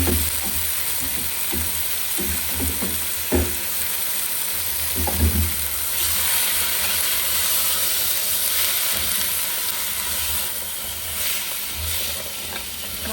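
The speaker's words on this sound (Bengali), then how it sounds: "মশলা আর ডাঁটাগুলো একসাথে কষাবো" Vegetable stems and spices sautéing together in a pan for a Bengali prawn and pui shak dish, a steady loud sizzle and hiss with occasional stirring scrapes, no talking.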